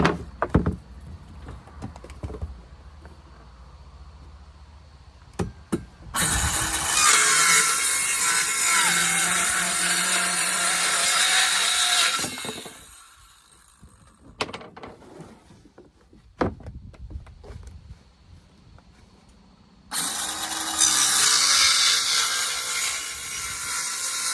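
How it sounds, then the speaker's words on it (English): A Skil circular saw rips through chipboard while an off-grid camper trailer is being fitted out: two loud, sustained whining cuts, the first about six seconds and the second starting later, separated by quieter handling clicks and knocks. "So we'll use the skill saw and we'll cut that."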